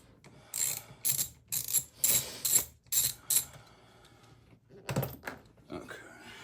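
Rapid ratchet clicks in several quick bursts from a hand ratchet loosening a bolt while changing spark plugs on a Fiat 500c, close and fairly loud, with a brief pause before a final pair of bursts.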